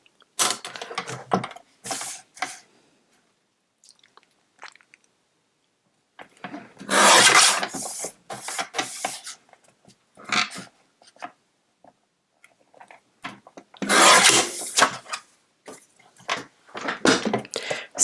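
Paper for a craft explosion box is cut in several separate bursts of close, crisp scraping and rasping, split by short silent pauses.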